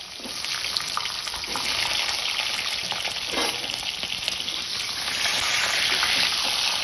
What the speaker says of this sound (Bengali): পটলটা এমনি ভেজে নেব